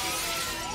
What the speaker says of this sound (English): An officer smashes the window.